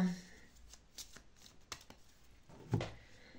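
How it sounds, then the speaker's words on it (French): Tarot cards are shuffled by hand before five are drawn, a soft, close riffling and slapping of card stock with faint background noise and a few louder taps near the end. "on va tout de suite vous tirer 5 cartes"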